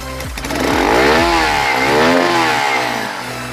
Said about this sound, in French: la moto elle s'allume